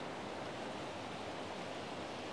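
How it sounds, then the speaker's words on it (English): A creek flowing past a fallen tree gives a steady, even rushing of water, quiet and unbroken, with no voices. "See the creek behind me?"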